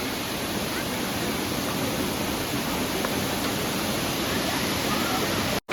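A dense, constant roar of cascading water at Kothapalli waterfall in Paderu, Andhra Pradesh, fills the scene close and loud with no voices, then cuts off abruptly at the end.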